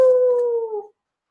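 A person imitates a werewolf howl with a single loud, sustained vocal tone that slowly falls in pitch and fades out after about a second, followed by silence.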